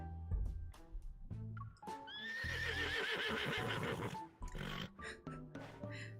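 A horse in a video game lets out a loud, drawn-out whinny lasting about two seconds, with game sounds and hoof-like clatter around it.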